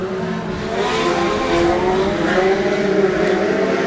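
Legend race cars accelerate together at a green flag start, a dense continuous roar of engines revving up, loud and steady throughout with rising pitch, no talk over it.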